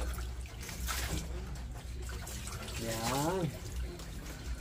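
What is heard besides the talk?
water poured from a dipper to wet a dog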